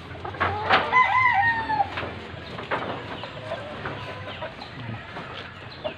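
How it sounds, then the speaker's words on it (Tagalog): Chickens crow and cluck in a Kaloocan City backyard with ducks kept alongside, several close calls early then scattered softer clucking over a quiet background. "At kasama na rin yung pato. Mga ducks."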